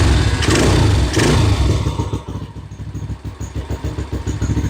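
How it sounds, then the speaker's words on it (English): A custom-built motorcycle's engine fires up with a loud burst, then settles into a rapid, throaty idle with small blips of throttle, close by and alone. "Let's start it up a minute. Key's got to be on. Give it a little gas when you do it."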